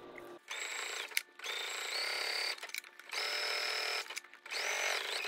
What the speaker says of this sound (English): I will sew the birdhouse blocks to the toadstool block with a 1/4 inch seam.